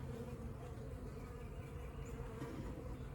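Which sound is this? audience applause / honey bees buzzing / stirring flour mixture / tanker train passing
honey bees buzzing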